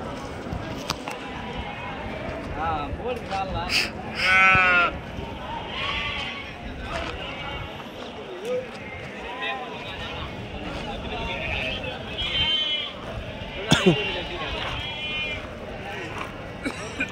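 Sheep bleat repeatedly amid a busy crowd at a weekly Saturday sheep market in Angallu, several calls near and far rising over constant chatter and bargaining voices.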